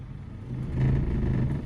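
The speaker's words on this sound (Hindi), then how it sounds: "अब छोड़ दो पूरा क्लच, गाड़ी उठ गई सेकंड गियर में, उठ गई विदाउट एक्सीलेटर" A car pulling away in second gear with the clutch fully released and no accelerator, giving a low, near engine rumble that strains and swells briefly as the vehicle starts to move.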